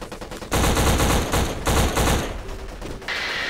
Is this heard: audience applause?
no